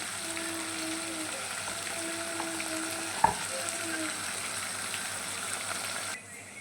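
Cashew paste frying in a chicken gravy in oil, a continuous close sizzle and bubbling hiss with one sharp knock partway through, steady until it cuts off near the end.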